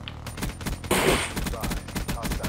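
Rapid automatic gunfire rattles in the shooter game Call of Duty Black Ops 3, with dense bursts of shots and a brief louder blast partway through, close and loud.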